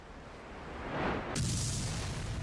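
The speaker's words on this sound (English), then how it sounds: "if possible, you can fire a missile at me right now" Missile striking a Krivak-class warship in Dynamic Ship Simulator 3: a rising rush that ends in a sharp, bright explosive blast, followed by a sustained rumbling roar, moderately distant.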